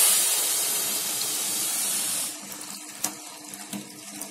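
Four cups of water are poured into sugar in a pot for rasmalai syrup, a loud hissing gush for about two seconds, followed by quieter clinks and drips.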